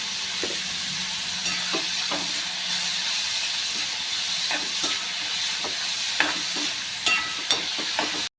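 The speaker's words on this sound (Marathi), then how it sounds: "गुलाबी रंग येईपर्यंत कांदा आपल्याला चांगला परतून घ्यायचा आहे" Onions sautéing with salt in a pan for brinjal bharit, a continuous loud sizzle and hiss with occasional light taps and scrapes of the stirring spoon, clustering toward the end.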